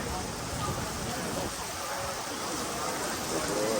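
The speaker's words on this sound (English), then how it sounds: "That's a lot of rain." Heavy monsoon-like rain pours down in Thailand before a yacht party, a steady dense hiss that fills the scene without letup, with faint voices underneath.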